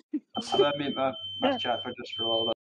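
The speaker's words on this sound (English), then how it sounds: "That's the fire alarm." A smoke alarm sounds a steady high-pitched tone in a flat while someone talks over it, the beep running faintly under his voice throughout.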